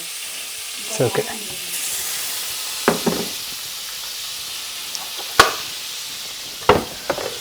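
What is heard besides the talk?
butter melting and sizzling in a heated pan for pav bhaji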